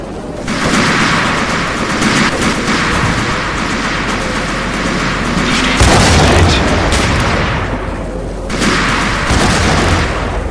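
An explosion in the Max Payne video game booms loudly with rumbling debris, followed by a second burst of blast noise near the end, sustained heavy roar throughout.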